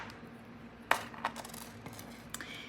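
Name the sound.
cutting off excess jewelry wire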